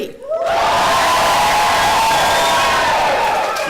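An audience at a storytelling event roars with loud, sustained cheering and shouting, imitating a game-show prize win; the dense crowd noise begins abruptly and stays steady for several seconds.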